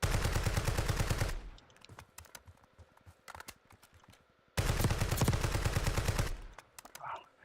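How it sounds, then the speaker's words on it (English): Sustained automatic gunfire in Call of Duty Warzone, two long loud bursts of rapid shots separated by a quieter stretch of scattered single shots and clicks. "Maybe we should shoot at him a little bit more."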